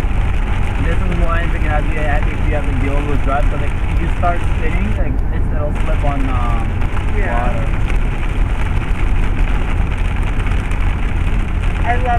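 A car driving through a heavy rainstorm, with dense rain drumming on the body and windshield over a low steady engine hum, heard from inside the cabin; people talk faintly.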